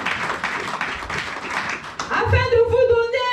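Church congregation clapping in rhythm during worship, steady hand claps under singing voices, with sustained sung tones and music swelling toward the end.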